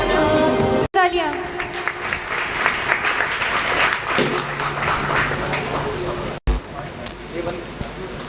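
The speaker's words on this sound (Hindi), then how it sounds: "तालियां।" A large audience at a patriotic evening program with a Jain monk claps loudly and continuously for several seconds, briefly cut off twice. Crowd voices and some speech carry under the dense, close applause.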